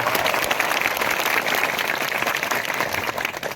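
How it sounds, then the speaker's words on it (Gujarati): Dense, steady applause from a crowd at a village public-awareness gathering in Zarvani, welcoming a guest; continuous clapping close by at even loudness throughout, with no talk over it. "એમને જોરદાર તાળીઓના ગણગણાટથી એમનું આપણે સ્વાગત કરી દઈએ"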